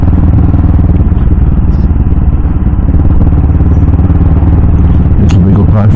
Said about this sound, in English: And I've took this bike out for a ride.